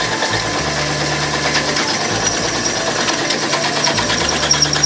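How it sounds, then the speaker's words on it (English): A steady mechanical whirring drone with a rapid buzzing rhythm as a drill grinds slowly through a metal pole, continuous and fairly loud. "Just slowly drill through."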